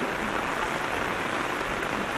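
Heavy rain pours down in a dense, even roar of hiss and patter, constant and loud with no pauses.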